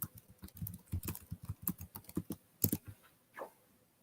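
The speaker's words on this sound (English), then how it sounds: "So when you go to Google, there's something called the Southern Lights. And if you type this in," A computer keyboard being typed on to enter a Google search, with steady close clicking keystrokes running for several seconds before trailing off into a few isolated taps.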